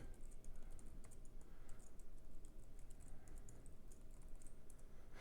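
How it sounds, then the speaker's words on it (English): Close, steady typing on a computer keyboard, a quick run of light key clicks with no voices. "I'll just type it in"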